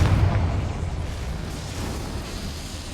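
A Confringo spell bursts in Hogwarts Legacy: a single deep boom at the start that rolls off into a fading rumble over a few seconds.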